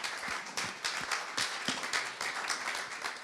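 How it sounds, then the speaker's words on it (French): An audience at a press-conference launch event claps for three startup founders, a dense, steady round of applause from many hands throughout. "Vous pouvez les applaudir d'ailleurs encore."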